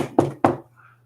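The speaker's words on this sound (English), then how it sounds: "Knock on wood." Two sharp, close knocks on wood in quick succession, each with a short resonant tail, then quiet with a faint low hum.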